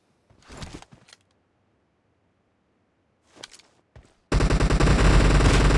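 Gunfire from a Kar98k bolt-action rifle and an M762 assault rifle in the PUBG video game: two short bursts with a pause between, then a loud, dense, continuous barrage to the end.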